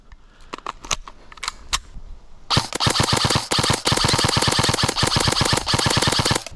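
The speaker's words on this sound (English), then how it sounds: "now let's actually showcase how fast this guy's semi-automatic and full auto is" An airsoft gun from a mystery collection fires a few separate semi-automatic shots, then a long rapid full-auto burst of sharp, close, loud clacks with no one speaking.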